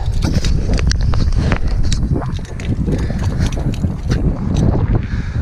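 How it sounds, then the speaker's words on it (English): Outdoor wind gusting against the microphone at a rope rappel setup, a continuous loud low rumble with buffeting and scattered rustles throughout. "There's some wind."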